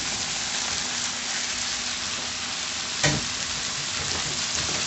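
Shrimp stir-fry sizzling steadily and loudly in a hot pan as broccoli is added, a dense continuous hiss with a brief clatter partway through, no speech.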